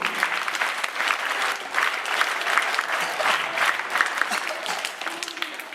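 Schoolchildren clap together at a math assembly in an international school, a steady, even patter of many small hands held at a moderate level throughout.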